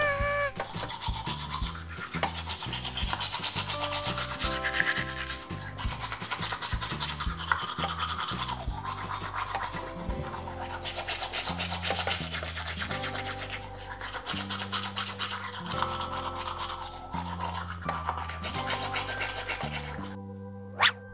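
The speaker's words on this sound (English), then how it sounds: "Skye needs to brush." A toothbrush scrubs teeth during a children's toy bathroom routine, a soft rapid scratching that is partly buried under a steady musical backing track, ending in a brief click.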